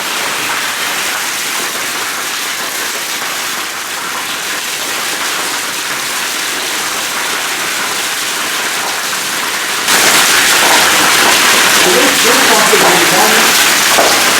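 A 1-horsepower pump pouring water into a large fish tank, a steady, loud rushing splash like heavy rain that jumps abruptly louder and brighter partway through, then continues with gurgling swirls.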